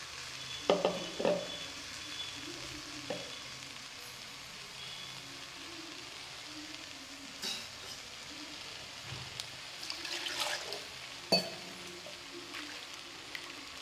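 Ground spice paste frying in a pan for benday kayi gojju, a soft steady sizzle with occasional scraping stirs and clatters, fairly close and quiet.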